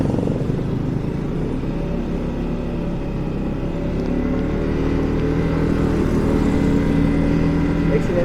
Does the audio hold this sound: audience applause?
no